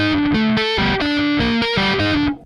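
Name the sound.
distorted guitar chord without the clashing tritone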